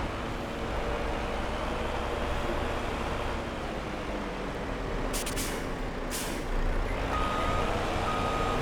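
Truck in Farming Simulator 22 backing up slowly, with a steady engine drone, a couple of hissing air-brake bursts and a reversing beep tone near the end, no talk.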